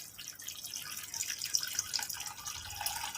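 Water poured into a pot of chicken biryani after yogurt has been mixed in, a steady liquid splashing and trickling throughout, fairly close and moderate in volume, with no talk.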